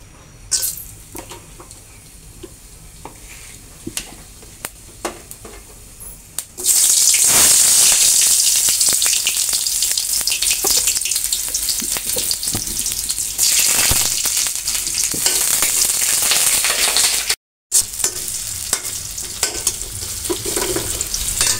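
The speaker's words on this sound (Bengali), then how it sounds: "একটু ভাজা ভাজা হয়ে গেলে তারপরে আদা রসুনটা বাটাটা দিয়ে দিব।" Whole garam masala spices, cardamom and cinnamon, hit a pan of hot oil with a sudden loud sizzle that holds steady and close for a while, with faint stirring and clinks before the burst.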